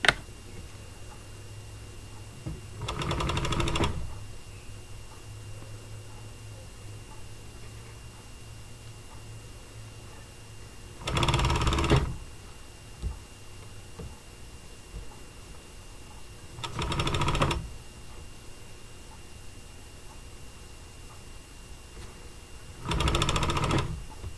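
A serger stitching fabric runs in four short bursts of rapid mechanical whirring, each a second or so long, separated by quiet pauses with faint room hum.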